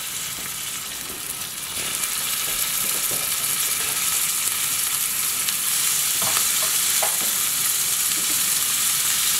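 Jumbo shrimp sizzle loudly in olive oil in a pan, a dense, steady frying hiss with scattered scraping clicks from stirring, close and without talk.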